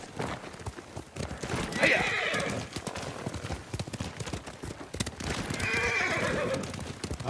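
Horses clip-clop at a steady trot and whinny in the game Ghost of Tsushima, with loud continuous hoofbeats, two prominent neighs, and game dialogue voices mixed in throughout.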